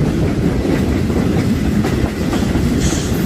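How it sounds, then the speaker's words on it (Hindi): A Pakistan Railways passenger train runs along the tracks near Hyderabad with a steady rumbling roll and faint rhythmic clatter of wheels, loud and continuous throughout. "ये आपको जो ट्रेन नज़र आ रहा है जाता है मीरपुर खास और जिसमें जाती है शालदीप एक्सप्रेस।"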